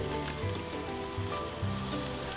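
Sous-vide pre-cooked chicken sizzles steadily on a sushi bar grill, a soft continuous hiss and crackle with a low hum underneath, fairly quiet and with no talking.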